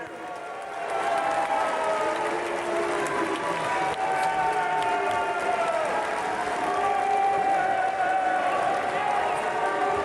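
Sparse clapping from a convention audience, an ongoing patter of scattered hands under crowd murmur and booing-like voices, heard at a distance while someone talks over it.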